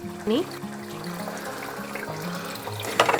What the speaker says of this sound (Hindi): अब हम इसमें डालेंगे 1 कप गुनगुना पानी